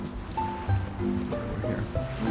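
Ocean waves with an underwater wash: a loud, steady rumbling surge with faint bubbling and brief tonal chirps layered on top, continuous throughout and with no speech.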